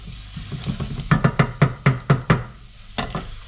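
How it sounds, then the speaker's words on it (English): Onion softening in a pan over raised heat gives a low frying sizzle, with a run of sharp spoon-and-pan knocks as it is stirred through the middle and once more near the end. "This onion is starting to cook down nicely now and soften nicely."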